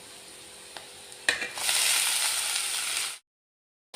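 Leafy greens drop into a hot oiled pan and a loud, bright sizzle bursts up, hissing steadily for a couple of seconds before cutting off abruptly.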